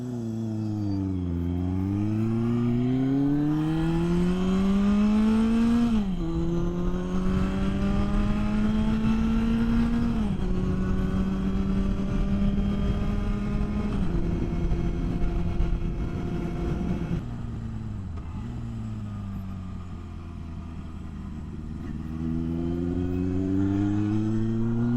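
A motorcycle pulls hard from a standstill, its engine note climbing through several gears with brief dips at each shift, loud and close for a sustained run with wind rush underneath.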